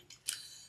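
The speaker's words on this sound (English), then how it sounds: "Trim those threads, which I have a ton of them." Two quick snips of scissors trimming loose threads off a sewn zippy bag, close and crisp, the second cut sharper than the first, with no talk.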